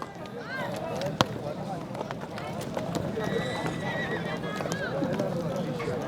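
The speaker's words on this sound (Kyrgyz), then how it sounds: "Күлүк ат экен." A fast racehorse galloping in a horse race at Nookat, Kyrgyzstan. Steady drumming hoofbeats run under crowd babble and voices, with an occasional whinny.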